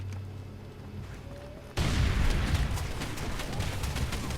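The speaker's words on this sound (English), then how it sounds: "So what happens if we throw a grenade?" A grenade in the video game Far Cry 2 bursts with a sudden loud boom after a quiet lead-in, then a sustained rumbling roar that carries on to the end.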